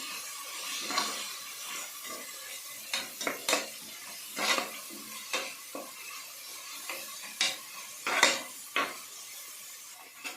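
Fenugreek leaves stir-fried in oil in a pan, with scattered scraping and clinking spatula strokes over a faint, steady sizzle, no talking.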